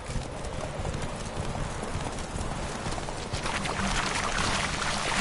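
Roach, Geralt's horse in The Witcher 3, gallops hard with a steady, fast drumming of hooves that stays loud and close throughout, over a dense wash of ambient game noise, with no talking.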